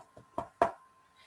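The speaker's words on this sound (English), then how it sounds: "Suddenly, there was a knock at the front door." A knock at a front door: three quick raps that grow louder, the last the strongest, fairly close and alone with no talking.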